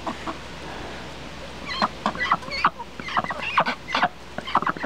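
Chickens or ducks snorting and sneezing to clear feathers from their nostrils while pecking at watermelon, a run of short, close, sharp bursts mixed with soft clucking over a low background hum.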